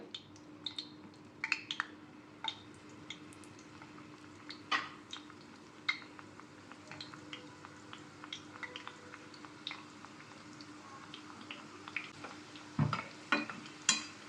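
Mini samosas frying in hot oil, heard as a soft, steady background bubbling with scattered crackles and occasional sharper pops and clicks, fairly quiet throughout.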